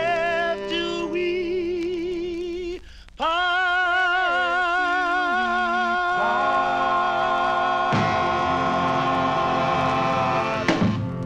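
A 1954 doo-wop record spun on vinyl: sustained harmonized vocal chords shifting through held notes, a brief dropout near three seconds, full and steady.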